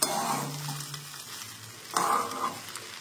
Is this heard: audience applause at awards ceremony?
no